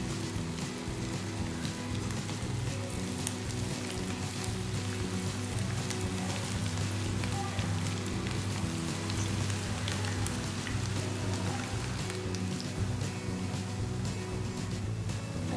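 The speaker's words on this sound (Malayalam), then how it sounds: "നമുക്കിത് ഓരോ പീസാക്കിയിട്ട് ഫ്രൈ ചെയ്ത് എടുക്കാം." Marinated beef pieces deep frying in hot oil, Kerala nadan style, a steady dense sizzling crackle that holds evenly throughout, close and moderately quiet.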